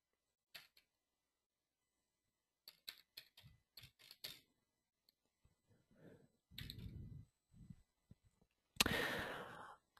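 A computer keyboard clicks in short, faint clusters of keystrokes, with pauses between runs and a few soft thumps and a louder rustle near the end.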